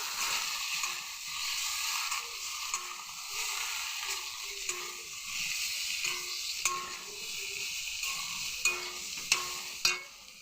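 Spice masala being stirred in a frying pan for an elephant foot yam (ol) dish, a steady sizzle with scraping spoon strokes and a few sharper clinks near the end, with no talking.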